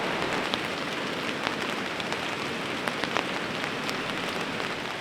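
Steady, dense rain pours down continuously on a tent at a riverside campsite, a close, even hiss with occasional louder drops striking a surface; no voices.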